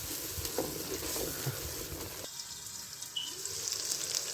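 Masala and spices frying in butter in a pan for a desi chicken matar dish, giving a steady close sizzle with soft stirring scrapes throughout and no talk.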